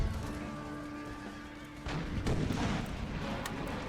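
Heavy cavalry horses charge into the rear of enemy infantry in the battle strategy game Imperial Splendour, a dense mix of whinnies, hoofbeats and distant cannon booms that swells louder partway through, with no talk.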